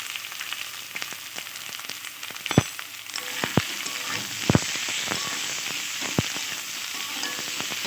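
Capsicum and tomato fry in spiced oil in a pan, giving a steady close sizzle with a few sharp knocks and scrapes from stirring, and no talk.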